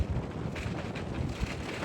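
Wind rushing past while riding a road vehicle on the way to Pondicherry, a constant loud roaring buffet over the microphone with no speech over it.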